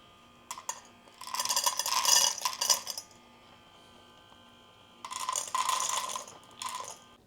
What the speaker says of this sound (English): So that way throughout the day, it'll automatically dispense the food.